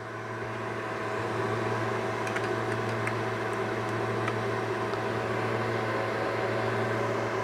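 Cooling fan of a Longer Nano Pro 12W laser engraver, a steady, moderately quiet whirring hum with a low tonal drone that runs evenly throughout with no talking.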